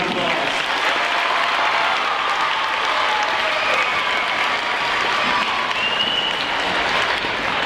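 A large crowd gives a steady, loud round of applause for Representative Jim Rigby at an outdoor 250th anniversary celebration in Windber, continuous dense clapping with faint cheering and voices underneath.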